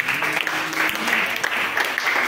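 A church congregation claps together at a French-language service. The applause is steady and fairly close, with a loose clapping rhythm and faint voices mixed in underneath.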